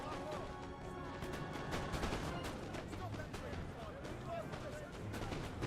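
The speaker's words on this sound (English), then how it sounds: "Cannon ready, sir." Cannon fire in the Napoleon Total War video game, a dense battle din of booming shots and crackling musket volleys running throughout, with voices mixed into the clamor.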